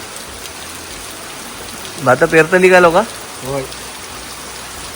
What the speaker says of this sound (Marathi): एवढं पाऊस पडतं